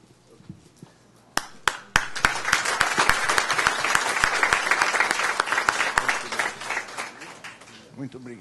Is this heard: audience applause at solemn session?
yes